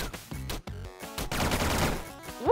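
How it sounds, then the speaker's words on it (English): Rapid bursts of small shots from falling blocks in the game Downwell, clustered in short volleys that build into a dense crackling run, with a rising chime near the end. "Blocks will shoot out bullets when destroyed"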